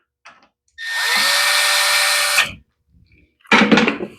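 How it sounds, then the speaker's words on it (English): Power driver tightening the auto choke on a Troy-Bilt lawn mower carburetor, one steady close whirring run of about a second and a half, a brief pause, then a second shorter loud burst. "let's tighten down the"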